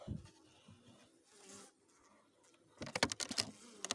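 Honey bees buzz and hum softly inside a hive, with a louder burst of insect activity near the end, close to the listener.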